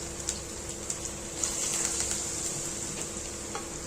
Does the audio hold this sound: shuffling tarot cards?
no